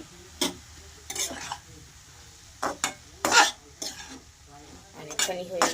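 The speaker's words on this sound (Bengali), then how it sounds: "এটাকে ভালো করে আমি আবার যতক্ষণ না সিদ্ধ হবে ততক্ষণ নাড়াচাড়া করে যাব।" Vegetables are stirred in a pan, with a series of short, distinct scraping and clinking strokes of a utensil against the metal over a faint background sizzle.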